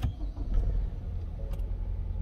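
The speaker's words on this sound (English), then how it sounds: "We'll go ahead and start the car up." Ford Fusion with a 2.0L Ecoboost engine starting up, a short crank catching into a steady low rumble that holds through the clip, close and fairly loud.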